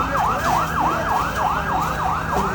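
A fire engine siren wails in a steady rising-and-falling cycle, repeating about eight times, loud and fairly close over traffic rumble at a large fire in Kathmandu.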